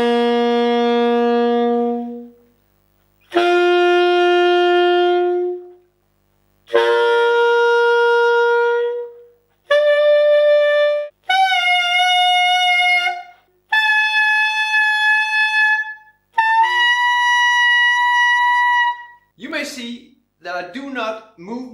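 Horn played with low C fingering climbs through its overtone series, about seven separate sustained notes each rising higher with short pauses between, clear and close, followed by a brief burst of rapid higher notes at the end.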